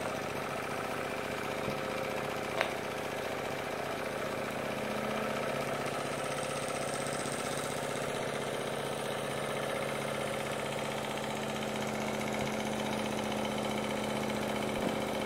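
A homemade single-cylinder steam engine fitted with a flywheel runs steadily on an early test, giving a continuous mechanical hum and rhythmic chuffing at an even level throughout, with no talking.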